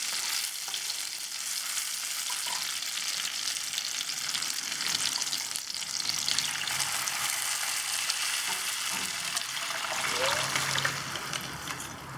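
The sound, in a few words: fish curry liquid sizzling with fried onions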